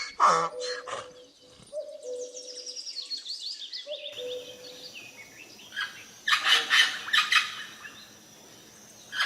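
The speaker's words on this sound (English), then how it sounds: "Parrot." A parrot gives a run of harsh squawks and shrill chirping calls, some drawn-out and some in quick bursts, close and fairly loud, with brief pauses between them.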